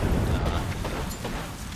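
Grenade blast in the shooter game Apex Legends, a dense, roaring burst of broadband noise that fills the whole moment and fades slightly, loud and close with a voice faintly underneath.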